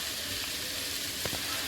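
Tomatoes frying in a pan, a dense, continuous close sizzle with a couple of faint knocks from stirring.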